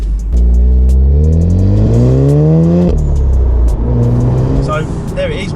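A Volkswagen Golf R MK7.5 engine in race mode revs up through rising pitch sweeps, loud and close from inside the car, with a brief drop and a second climb.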